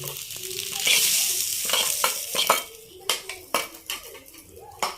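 Scrambled egg and mixed vegetables are stirred in a frying pan over a sizzling hiss, with sharp, repeated spatula scrapes and metallic clinks against the pan.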